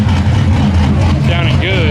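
A red F-body car's engine rumbles and revs at a car show, its low throaty note mixed with crowd chatter and people talking nearby.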